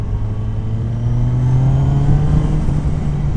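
A motorcycle engine, fitted with a clean-air mod after removal of its PAIR air-injection system, runs at light, barely opened throttle, giving a steady close, low idle-like drone with a faint rise partway through and no voices.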